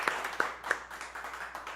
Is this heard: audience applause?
yes